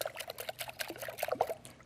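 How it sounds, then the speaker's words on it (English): Custard mixture poured evenly over apples in a baking dish, a soft close trickling and dribbling of thick liquid with small splashy pulses, quiet and alone for about two seconds. "pour this evenly over top of your apples"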